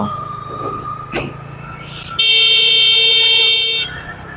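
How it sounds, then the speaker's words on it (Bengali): A vehicle horn blasts loudly and steadily for over a second on a road blocked by rickshaws, after a couple of shorter earlier taps amid traffic noise. "যে কারণে হর্ন দিতে বাধ্য হলাম"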